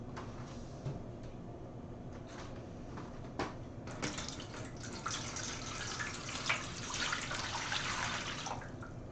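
Water pours steadily into a pot or container with splashing and gurgling, mixed with vinegar for dyeing yarn, heard close and continuous with occasional knocks and clinks.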